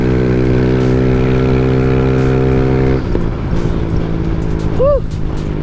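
Yamaha NMAX 155 scooter with a CHA RAMA power pipe exhaust idles loudly with a steady, deep harmonic drone, then breaks into rougher revving in the second half, with a brief voice whoop near the end.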